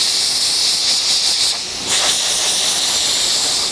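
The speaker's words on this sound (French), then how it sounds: "Ça, c'est de la vapeur humide, de la vapeur chaude humide que j'emploie." A garment cleaning machine blows hot, wet steam in a loud, steady hiss close by, easing slightly for a moment before surging back.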